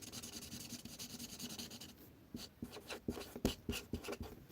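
A pen moves across paper as names are written by hand, starting as a faint continuous scratch and turning into quick, close, irregular strokes with short pauses between them.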